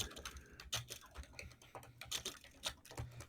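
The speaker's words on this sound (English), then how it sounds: "The typing." Rapid clattering keystrokes on a computer keyboard during an online Fallout tabletop role-playing session, coming in uneven bursts of clicks, fairly close and faint, with no voices over it.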